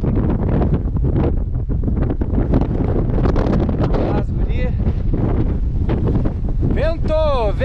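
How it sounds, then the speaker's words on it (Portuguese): Strong wind on a mountain peak before dawn, a loud steady rush buffeting the microphone throughout, with a voice speaking over it and some whistling, wavering tones near the end. "Vento! Vento!"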